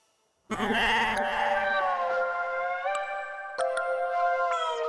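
Sheep and goats bleat loudly and close after a moment of silence, a sustained wavering chorus of overlapping cries that rises and shifts in pitch over several seconds.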